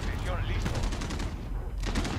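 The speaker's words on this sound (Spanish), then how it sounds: "Dios, qué disparo" Gunfire in Call of Duty Modern Warfare, a team deathmatch on the Rust map: a quick burst of several sharp shots, then a brief lull and another short volley, with game sounds behind and no clear talk.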